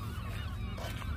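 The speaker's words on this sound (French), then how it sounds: "Il y a un festival de mouettes là, je sais pas ce qui se passe." Seagulls call over and over at a seaside on a warm summer evening, a dense, continuous flock chorus of loud honking cries close by, with no talking.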